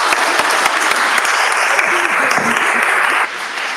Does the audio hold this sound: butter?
no